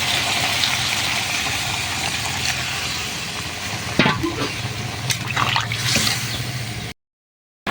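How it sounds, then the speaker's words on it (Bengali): Water poured into a simmering papaya curry for gravy, later cooked with shrimp. A steady, loud sizzle and bubbling run throughout, with a brief splashy rush midway, then the sound cuts off near the end. "এখন ঝোলের জন্য পরিমাণ মতো পানি দিয়ে দিচ্ছি।"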